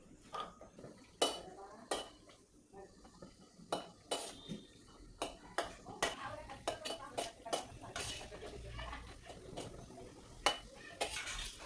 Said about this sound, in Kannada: ಸೊ ಈಗ ಕ್ಯಾಶ್ಯೂನ ಫ್ರೈ ಮಾಡ್ಕೋತಾ ಇದ್ದೀವಿ.